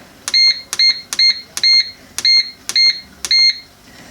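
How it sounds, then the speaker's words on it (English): Seven short, high electronic beeps from a Russell Hobbs bread maker, evenly spaced at a steady rhythm, close and clear over a quiet background. "You hear that beep?"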